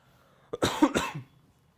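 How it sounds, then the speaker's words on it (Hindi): A teacher with a sore throat coughs mid-lesson: a short burst of two or three harsh, close coughs, with throat clearing between them, in an otherwise quiet room. "मैं बीच बीच में थोड़ा सा खांसूंगा, गला मेरा खराब है"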